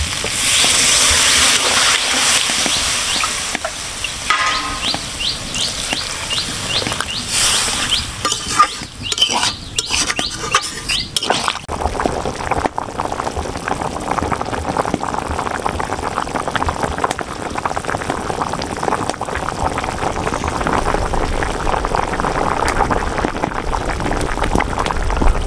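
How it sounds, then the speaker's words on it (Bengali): Water pours into a pan of potato and soybean curry, starting as a bright hissing sizzle and settling into a steady bubbling simmer with occasional clinks of utensils. "এখন আমি পরিমাণ মতো জল দিয়ে দেব।"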